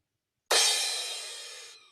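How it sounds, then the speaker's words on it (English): A single cymbal crash rings out alone, bright and shimmering, then slowly decays over about a second before cutting off. "So a cymbal sound, just by its own accord, sounds like this."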